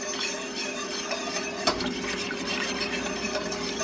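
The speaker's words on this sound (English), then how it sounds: "This is why we use the whisk." A whisk stirs a vegan flour-thickened sauce in a pot with a steady, soft scraping and ticking, close and fairly quiet, with one brief louder clink partway through.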